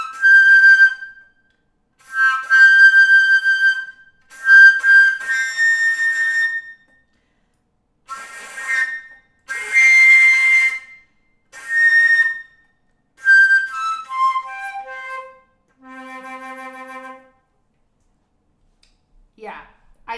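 A flute set with crystals plays a few short phrases of clear sustained notes separated by pauses, close and fairly loud, ending on a softer held low tone.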